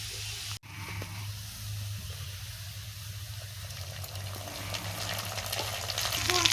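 Cumin paste fries in a pan with a soft, steady sizzle and crackle, faint and close, growing slightly louder over the span after a brief dip near the start.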